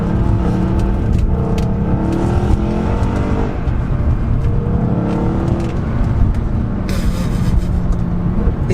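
A high-mileage Mercedes C63 AMG drives and accelerates, its engine roaring steadily and loudly from nearby with continuous road and wind noise throughout.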